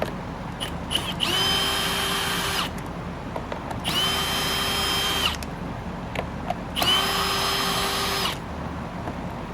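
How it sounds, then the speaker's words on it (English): Three bursts of a cordless drill driver backing out the top panel screws on a Eureka PowerSpeed vacuum, each whirring run lasting over a second with a rising pitch, separated by short pauses, close and clear with no talk. "we're going to pull these two top screws, see if we can pull this panel off"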